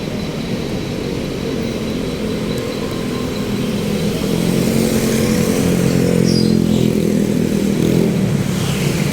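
Rainy-afternoon road traffic in Metro Manila, with cars and motorcycles in a continuous low engine rumble that swells slightly as vehicles pass close by.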